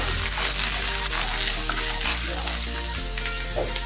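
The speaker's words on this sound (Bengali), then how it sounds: "আদা রসুন বাটা পেঁয়াজের সাথে কিছুক্ষণ সময় নিয়ে একটু কষিয়ে নেব।" Ginger garlic paste frying with onions in a pan, a dense continuous sizzle with occasional stirring scrapes, close and steady.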